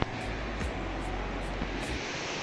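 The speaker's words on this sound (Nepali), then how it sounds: "खोलाको साउन्ड मात्रै सुनिरहेको" A river rushes beside an off-road mountain route on the journey from Kathmandu to Ramechhap in Nepal, a steady broadband roar of flowing water that stays loud and constant throughout, with no voices.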